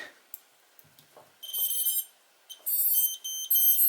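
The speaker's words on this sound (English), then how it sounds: "Okay, we get a lot of beeps there" A series of high electronic beeps and tones from a Tarot 130 drone's ESC buzzer as the battery is plugged in, some sustained and some in short bursts, close by with brief quiet gaps.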